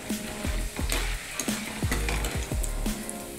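Roasted gram (dalya) frying in hot oil over a medium flame for Nashik-style chivda, with a steady sizzle broken by repeated scraping strokes of a metal spoon against the pan.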